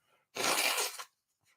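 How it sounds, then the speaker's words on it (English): A single short, forceful blow of air through the nose, close and loud, lasting under a second, with quiet before and after. "I just got to blow my nose, I think."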